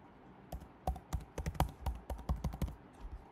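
Fingers typing a password on a computer keyboard at a desk, a quick run of about fifteen close, crisp key taps in uneven bursts with no talking.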